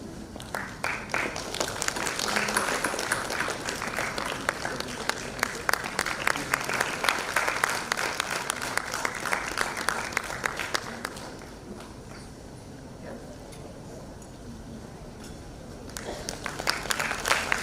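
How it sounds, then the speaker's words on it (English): A conference audience at an international event on inclusivity breaks into dense, steady applause after a session; the clapping runs for about eleven seconds, then thins to a quieter murmur before a brief fresh burst of claps at the end. "We have a round of applause for that engaging session."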